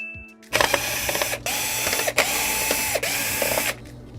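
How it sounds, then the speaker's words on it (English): Screws being backed out of a Synology DS415+ NAS chassis, heard as close, steady mechanical whirring with a few repeated short bursts, like a powered screwdriver spinning, interrupted by brief pauses. "And now we're going to remove these screws."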